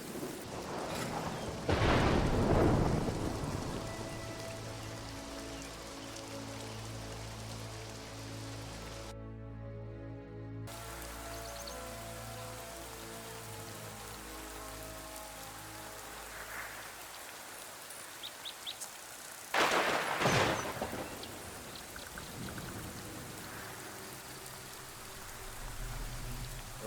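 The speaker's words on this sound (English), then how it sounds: "Rain again." Rain in the fantasy role-playing game Two Worlds, a continuous soft patter that swells twice into louder, rumbling bursts like distant thunder, with a brief dropout partway through.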